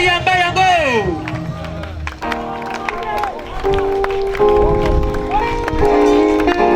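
Congregation clapping and cheering in praise at a church campaign gathering, the crowd noise layered under sustained singing or music and voices, loud and continuous throughout.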